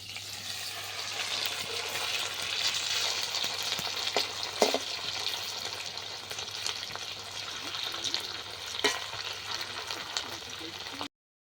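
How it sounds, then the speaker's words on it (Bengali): Chili cauliflower pieces fry in hot oil, with a continuous sizzle and bubbling. Occasional sharp clicks and pops come through, and the sound ends in an abrupt cut to silence. "বন্ধুরা, এবার এক পিস ভাজা হয়ে গেছে, উল্টে দেবো আমি।"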